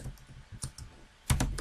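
Keys clatter on a computer keyboard while a chat message is typed, a run of quick irregular clicks with a louder burst of keystrokes near the end, close and alone.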